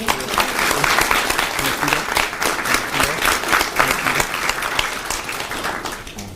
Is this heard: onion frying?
no